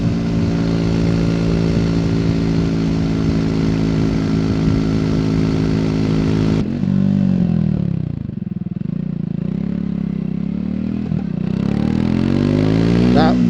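Triumph Speed 400 motorcycle engine on the road, holding a steady high-revving drone that drops off sharply halfway, then rises and falls through several throttle blips with shifting pitch, loud and close throughout.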